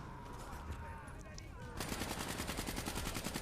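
Rapid automatic gunfire from Call of Duty Black Ops III gameplay bursts in loud and continuous halfway through, after a stretch of quieter game ambience and effects.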